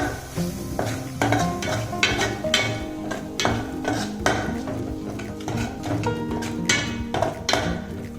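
A spoon scrapes and knocks around a pan as turmeric and coriander powder masala is mixed over heat, with repeated rhythmic clanks over a low sizzle, close and continuous without speech.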